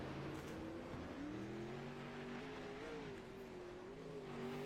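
A distant 360 sprint car rolls out onto a dirt track at a race meeting, its engine a faint, wavering drone shifting in pitch over steady background noise.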